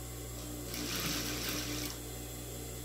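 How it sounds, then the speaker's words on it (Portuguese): A sewing machine stitches along the edge of tricoline fabric for a dish towel, a short burst of fast mechanical whirring rising over a steady hum, fairly close and quiet. "nós vamos costurar em cima da tricoline."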